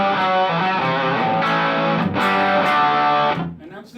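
A heavily distorted electric guitar through a fuzz drive rings out loud and sustained, chords blending into a thick driven tone before cutting off near the end.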